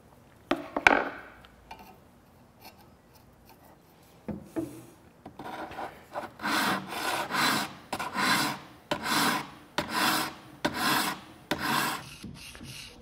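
Steel drawknife blade being filed by hand, a dry rasping scrape repeated in steady strokes, roughly a dozen rhythmic passes after a few scattered knocks and quieter handling at the start.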